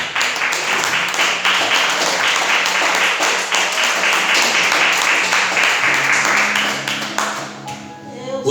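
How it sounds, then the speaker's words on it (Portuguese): A church congregation claps steadily and loudly for several seconds, a dense wash of hands that thins out toward the end as voices and a low tone come through. "desocupa as suas mãos e aplauda o Rei da Glória"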